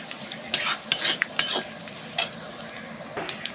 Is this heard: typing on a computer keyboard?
no